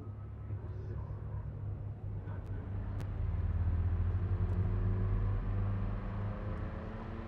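A car in Cyberpunk 2077 drives along with a low, steady engine rumble that swells slightly midway, a few faint clicks on top.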